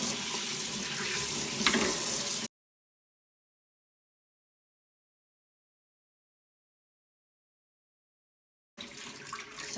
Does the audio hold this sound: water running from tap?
yes